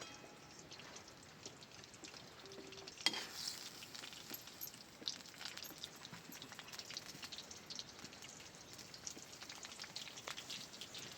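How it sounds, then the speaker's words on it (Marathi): Garlic frying in a pan on a wood-fired stove gives a quiet, steady crackle and sizzle throughout, with one brief sharper clatter early on and no voices. "तर 5 मिनटं दरसक लसूण तापून द्यायचा"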